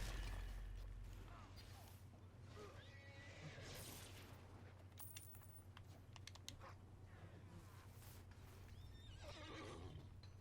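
Horse neighing in the fantasy video game Neverwinter, a clear whinny standing out over steady game background sound, with hoof clip-clop and a bit of keyboard typing mixed in.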